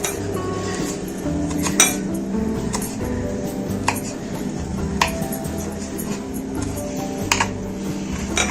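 Green chillies or herbs for chicken kebab are finely chopped with a knife on a board, giving a string of light, irregular taps and clicks, with a few sharper knocks spread across several seconds.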